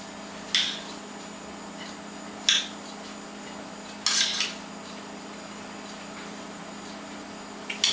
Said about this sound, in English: dish that up onto the plates, and take the rice, dish some of that up onto the plates